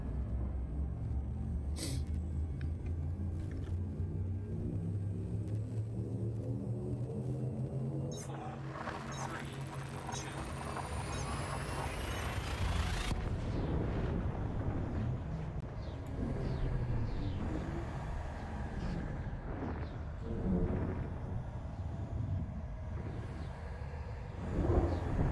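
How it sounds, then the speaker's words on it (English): Elite Dangerous frame shift drive charging and jumping: a low, building drone with rising tones that swells into a bright whooshing surge, then a long rumbling roar, loud and continuous. "Frameshift drive charging"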